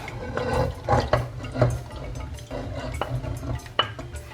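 Chicken gizzards go into a cooking pot with a series of wet clanks, scrapes and sloshes, close and moderately loud, as the pieces are tipped and stirred against the metal.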